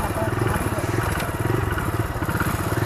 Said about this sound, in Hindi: अभी हम चलाएंगे राइडर 125 को पावर मोड में।